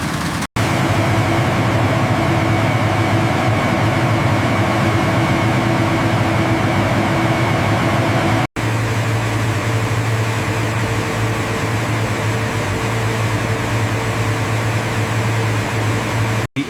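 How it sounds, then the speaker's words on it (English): Aluminum can shredders run inside a large recycling factory, producing a loud, steady mechanical drone with a low hum that stays constant throughout, broken only by two very brief cuts. "Main shredders engaged."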